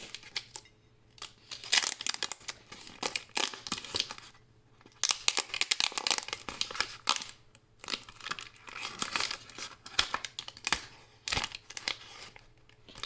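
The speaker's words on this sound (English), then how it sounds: "We can remove the tape from here" Tape being peeled off a sublimated ceramic mug after it has fully cooled, bursts of crinkly tearing and crumpling close by, broken by brief pauses.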